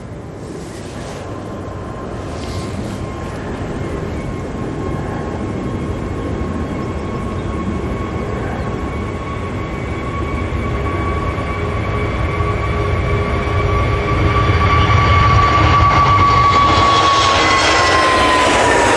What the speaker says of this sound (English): British Airways going back to London, now on the roll.